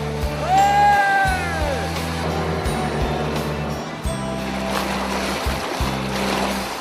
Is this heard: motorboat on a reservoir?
yes